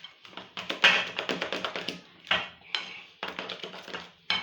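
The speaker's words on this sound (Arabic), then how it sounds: "تنحرك مزيان باش يتخلطوا ليا كاع لي زانغريديون" A spoon taps and scrapes against a bowl while chocolate muffin batter is stirred, giving a quick run of close, clattering strokes in short bursts with brief pauses between them.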